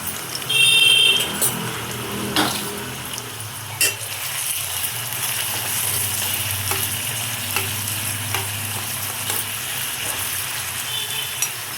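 Onions and green chilies fry in hot oil with cumin for a drumstick curry, a steady close sizzle running throughout while a spoon stirs and clinks now and then against the pan.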